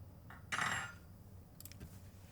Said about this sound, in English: And then he sets the spoon down.